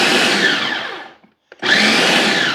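A countertop blender pulses chopped gazpacho vegetables, two loud whirring bursts separated by a brief silent gap, close and unaccompanied by talk.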